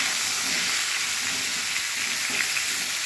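Cooking oil sizzling steadily in a hot frying pan, a loud, even hiss with faint crackles, close and uninterrupted, with no one speaking.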